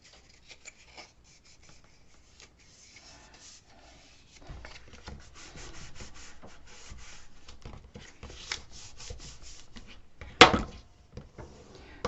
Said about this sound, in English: Go ahead and burnish it down really well.